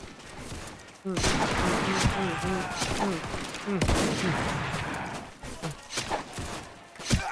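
Dense rapid gunfire in a Roblox base-defense battle, bursts of repeated shots and explosions rattling for several seconds, with a voice talking over the action.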